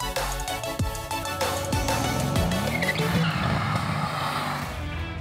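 A Mercedes-AMG C 63 S with 265 mm rear tyres is driven into oversteer, its engine snarling loudly and steadily while the rear tyres squeal and skid throughout.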